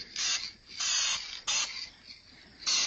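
Aerosol spray paint can hissing onto a car body panel being repaired, four separate bursts of roughly half a second each, close and fairly loud, with no talking.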